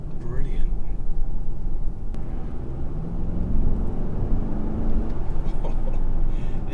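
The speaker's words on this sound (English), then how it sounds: "I really hope that the sound of the engine is coming across through that camera, because it sounds brilliant." An Audi RSQ8 drives on a UK road, its engine a low, steady rumble heard from inside the cabin under continuous talking.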